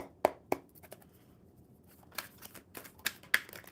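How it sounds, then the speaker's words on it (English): Tarot and oracle cards are shuffled by hand, giving a series of sharp, crisp riffling snaps spaced irregularly over a quiet room, close and fairly soft. "I shuffle until I get 3 tarot."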